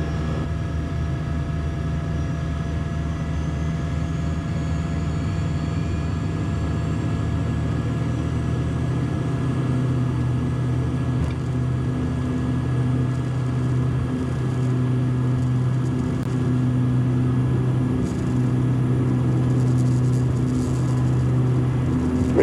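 A Beechcraft F90 King Air turboprop rolls for takeoff with a steady, loud engine rumble and droning propeller hum that holds throughout, building slightly toward the end, with no talk over it.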